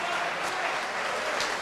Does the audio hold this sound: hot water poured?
no